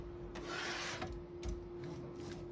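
Carriage of a 1933 Remington Portable Model 5 typewriter sliding freely after release, a soft close rasp lasting under a second, followed by fainter brief rubbing strokes against a steady low hum.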